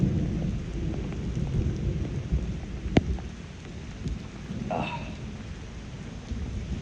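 Thunder cracks once, sharp and loud, during a heavy rainstorm near a waterfall in Italy, then rumbles off against a steady hiss of rain falling on surfaces.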